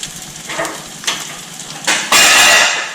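Cheese forming a taco shell fries in a pan, giving bursts of crackling sizzle and light scraping of a utensil against the pan, close and loud, swelling into a strong continuous sizzle near the end.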